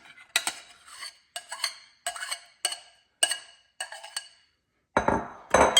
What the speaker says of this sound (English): Put them together and stir them up.